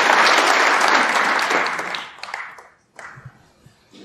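Audience applause in a snooker arena at the 2023 Grand Prix after a superb pot, loud and dense at first, then thinning and fading to scattered claps and quiet by the end.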